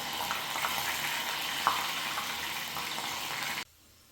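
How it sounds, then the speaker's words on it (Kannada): Sweet corn masala pieces fry in hot oil, a steady loud sizzle and bubbling with a few small pops and clinks, which cuts off abruptly near the end. "ಇವಾಗ ಎಣ್ಣೆಯಲ್ಲಿ ಫ್ರೈ ಮಾಡ್ಕೋಬೇಕು."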